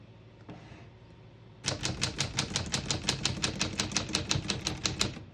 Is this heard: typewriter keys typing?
yes